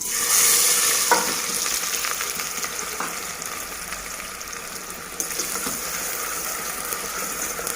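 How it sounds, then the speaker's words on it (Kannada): A large onion hits hot oil in a pressure cooker. A loud burst of sizzling at the start settles into steady frying crackle with occasional scraping stirs, and no voices. "ಎಣ್ಣೆ ಕಾಯ್ತಾ ಇದೆ. ಇದಕ್ಕೆ ಸ್ವಲ್ಪ ಒಂದು ದೊಡ್ಡ ಉಳ್ಳಾಗಡ್ಡಿ ಹಾಕ್ತೀನಿ"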